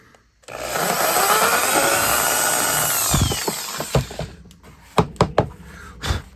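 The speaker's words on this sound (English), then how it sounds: "I'm going to try just drilling right in front here." A power drill whirs loudly and continuously for a few seconds drilling into a pumpkin, then stops, followed by several scattered knocks and clunks.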